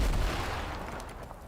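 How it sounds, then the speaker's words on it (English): A grenade explosion in the video game Fortnite on a PC: a single loud, booming blast with a deep low thud that decays quickly over about a second and a half. "Let's try a grenade, because explosions are better now."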